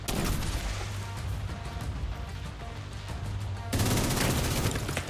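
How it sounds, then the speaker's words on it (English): Heavy gunfire and impacts from a rogue sniper turret in the video game The Division 2, a loud, sustained barrage of overlapping shots that surges louder near the end. "Rogue sniper turret detected."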